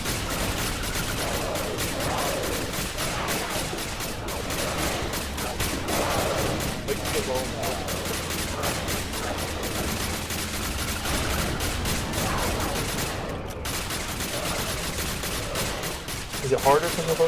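Rapid pistol gunfire in the top-down shooter Alien Breed: Impact, shots popping steadily over dense game music and effects, with players talking throughout.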